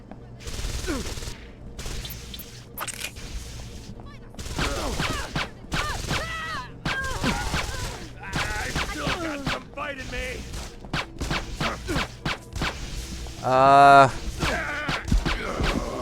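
Pistol shots ring out in Deus Ex: Invisible War against armored enemies, a string of sharp cracks spread through the combat with grunts and game noise, while a voice talks over much of it.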